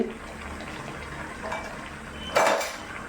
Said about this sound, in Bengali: ঢাকনা খুলে দিয়ে দিচ্ছি